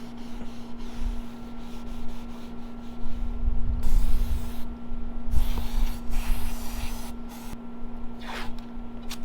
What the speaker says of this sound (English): spray these down with some acetone, wipe them all down